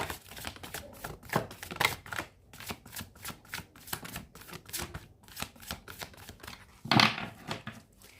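Tarot cards being shuffled by hand, a fast run of crisp riffling clicks and flutters with brief pauses between bursts, close and moderately loud, with no talking.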